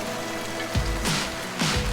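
Heavy, unrelenting rain pours down in the village of Mawsynram, a dense continuous hiss with a few deeper whooshing surges rising out of it.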